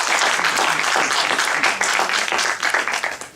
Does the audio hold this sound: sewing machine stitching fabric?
no